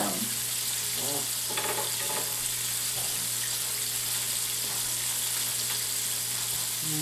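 Butterflied shrimp fry in oil with a steady, hissing sizzle, bright and constant throughout, with occasional soft clicks and shuffles as the pieces are gently turned in the pan.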